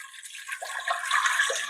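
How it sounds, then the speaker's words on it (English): Water is poured into a pot of melted butter, along with sugar, for zeppole dough. It makes a steady, close splashing pour that builds and brightens over a couple of seconds, with no talking. "I'm going to pour in"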